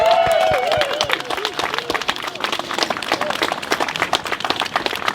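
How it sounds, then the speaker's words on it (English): A crowd at a George Nkencho protest breaks into applause, dense clapping that starts loud and gradually thins over a few seconds, with a brief voice at the very start. "I would appreciate a resounding round of applause for Gloria Nkencho."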